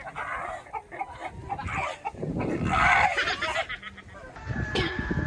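Chickens cluck and squawk busily in a noisy mix of rustling and movement, with a rooster-like call near the end.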